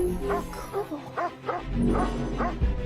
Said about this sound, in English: Did you see the dog?